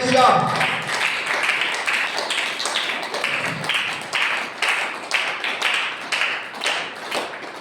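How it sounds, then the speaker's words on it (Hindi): A church congregation claps during a Sunday service, a run of broad, fairly steady hand claps repeating close and loud through the room while a voice talks underneath at the start. "ताली बजा के परमेश्वर को धन्यवाद करेगा।"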